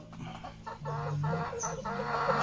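A chicken inside a coop on a small farm in northeastern Thailand clucks close by in a short run of throaty, pulsing calls, followed by a brief higher squawk.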